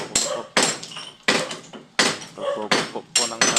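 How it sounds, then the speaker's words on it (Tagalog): Hammer blows on a construction site, about six sharp metallic strikes in an uneven rhythm, each loud and close with a brief ringing decay, and no talk over them. "Pagpupukpok po ng martilyo mga kapeps ha."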